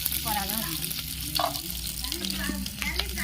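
Garlic and onion sautéing in a pan, a constant close sizzle and frying hiss with occasional stirring scrapes, loud and steady throughout, no voices.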